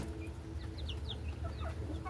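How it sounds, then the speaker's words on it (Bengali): Desi (native) chickens cluck and chirp as they eat, with short high calls over a steady low rumble of background noise. "প্রচুর পরিমাণে চঞ্চল দেশি মুরগিগুলো"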